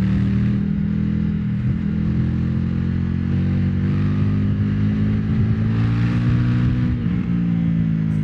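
An Indian FTR 1200 motorcycle rides at night through Belgrade, its engine a steady, loud, close throbbing drone with slight swells in pitch and no talking.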